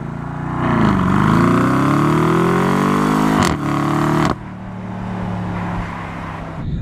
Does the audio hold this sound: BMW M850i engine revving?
yes